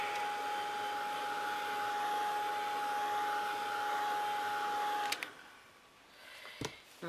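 A heat gun or hair dryer blows a steady, whining hum over a butterfly craft piece, then switches off after about five seconds and leaves a quiet room with a couple of small knocks.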